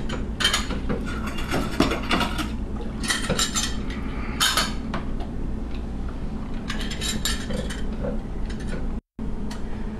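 Homebrew keg valves opened and closed while soaking in sanitizer, making repeated metallic clicks, clanks and ratcheting rattles in irregular bursts close up, with no talking.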